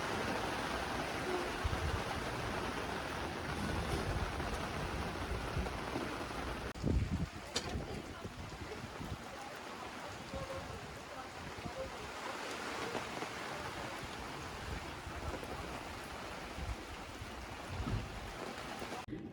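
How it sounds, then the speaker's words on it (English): Heavy rain pouring down at an outdoor fall craft market in wind, a steady dense roar of rainfall and gusts filling the air throughout, with one brief louder clatter near the middle. "it's raining so hard right now"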